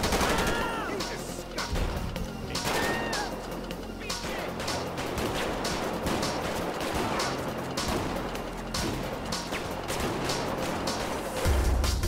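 Gunfire from a GTA 5 police patrol with military and SWAT units crackles in rapid, repeated bursts of shots, mixed with other game noise and some chatter, fairly loud and continuous.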